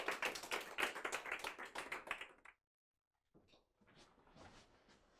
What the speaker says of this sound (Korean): 박수 환영해 주세요.